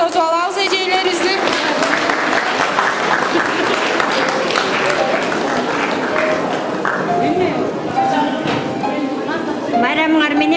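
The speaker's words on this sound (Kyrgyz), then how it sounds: "Кол чаап тосуп алабыз эжелерибизди." Loud, sustained applause from a school audience welcoming teachers at a graduates' celebration in Kara-Oi village, dense clapping filling the hall with crowd murmur and a voice beneath it.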